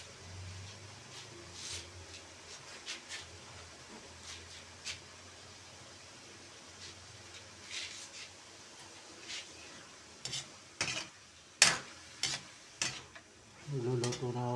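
Liver browns in a pan, with a soft, steady sizzle and occasional scraping stirs that grow louder and more frequent toward the end.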